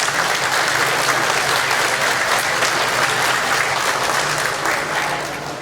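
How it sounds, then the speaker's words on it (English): An audience at the 2024 Hmong festival in Wausau breaks into sustained applause, a dense wash of clapping from a large crowd that holds steady and then tapers slightly at the end. "We can give them a round of applause."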